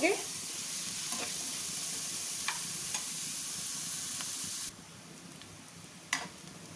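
Onions sizzle steadily in a pan while frying to a light pink for home-style chana dal, a continuous close hiss with occasional stirring clicks, dropping somewhat quieter partway through.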